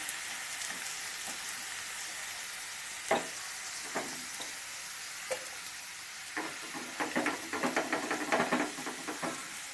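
Cauliflower shallow frying in oil in a kadai, a steady soft sizzle with scattered crackles and pops that grow busier and more frequent toward the end.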